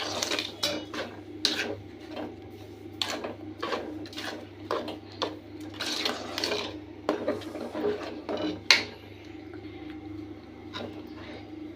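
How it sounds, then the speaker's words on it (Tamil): Semolina and sugar being stirred in a pan for rava kesari, a steady run of scraping, rubbing strokes from the spoon against the pan, fairly close and moderately loud, with no talk. "சர்க்கரையும் போட்டு நம்ம அப்படியே கிண்டி விட்டுக்கலாம்."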